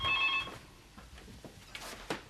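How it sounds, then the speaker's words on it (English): A telephone bell trills briefly in a 1995 British rural drama scene. The high warbling ring is faint and sounds at the start, then gives way to quiet room noise and soft movement. "Heard the phone go and thought it was her."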